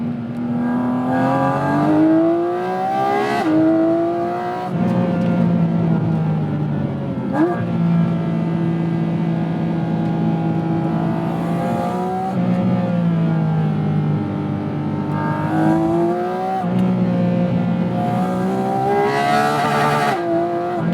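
A Porsche sports car, either a 911 GT3 991.2 or a 718 Cayman GT4 RS, revs loud and close as it downshifts toward redline, with engine pitch rising and falling repeatedly in sweeping blips.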